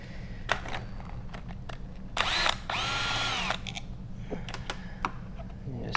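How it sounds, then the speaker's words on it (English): A cordless drill fitted with a T25 Torx bit backs screws out of an Echo SRM trimmer guard: one short whir then a longer steady whine, close, among light clicks and handling noises. "I like to use a T25 torque bit with a drill, just so it makes the process a little faster."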